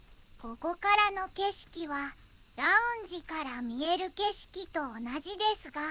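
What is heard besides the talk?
cicadas singing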